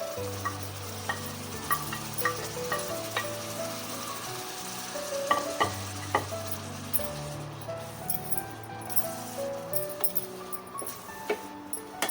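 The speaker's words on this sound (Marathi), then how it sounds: "थोड्या वेळ त्याला आपण परतून घेऊया. बघा, आपले टमॅटो परतले गेले." Chopped green tomatoes sautéing in a pan with onion and spices, a soft continuous sizzle under repeated scraping and tapping of a spoon against the pan, close by and without speech.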